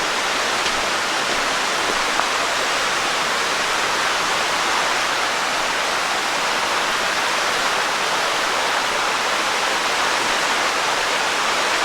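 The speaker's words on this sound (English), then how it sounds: "And the second stream crossing." A stream rushing over a crossing on an autumn hiking trail near the Devils Hole ruins, a dense, steady roar of flowing water heard close and continuous, with no voices.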